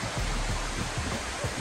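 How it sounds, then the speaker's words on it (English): A waterfall pouring down into a lush valley amphitheater on Kauai, heard as a dense, steady roar of falling water at moderate level with no voices. "this verdant amphitheater with the waterfall pouring down"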